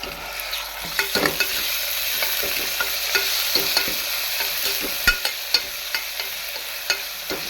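Ginger garlic paste fries in a pan with onions and turmeric for a green pea gravy, a continuous close sizzle broken by repeated scraping knocks of a stirring spoon.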